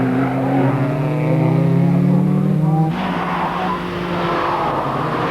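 Group N saloon racing cars in a 24-hour endurance race at night, engines roaring steadily and shifting pitch as cars pass, loud and close, with someone commenting over the noise.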